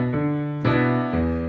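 Piano playing a song with a walking bass line in the left hand and chords added on beats two and four in the right, steady and close with no talking.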